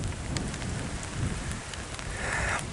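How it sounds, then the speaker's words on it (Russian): Steady rain pours outdoors on a windy day by the Pechora river, a dense broadband hiss with scattered drop impacts, fairly close and continuous throughout with no talking. "Так, дождь пошел, у меня сейчас камера намокнет."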